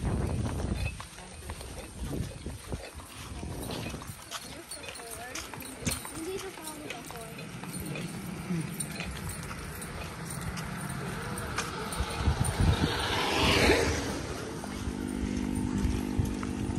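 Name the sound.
horse hooves clip-clopping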